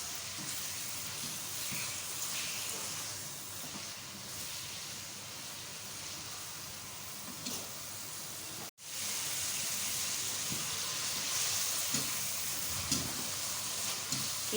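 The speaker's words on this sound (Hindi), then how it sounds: "कीमे को अच्छी तरह से भूनें।" Mutton mince fries in a pan, giving a steady, quiet sizzle and hiss throughout with a brief gap partway through and no talk.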